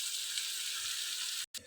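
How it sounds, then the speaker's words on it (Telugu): Chicken pieces coated in masala deep frying in hot oil for a chicken biryani, giving a steady, loud, close hiss of sizzling that briefly cuts out near the end before resuming. "మసాలాతో పాటు చికెన్ ముక్కలు కూడా బాగా ఫ్రై అవుతాయి, డీప్ ఫ్రై అవుతాయి"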